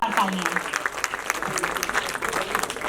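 A crowd claps steadily at a stage show celebrating Lata Mangeshkar's 93rd birthday, a dense, even patter of hands close by with a brief voice near the start.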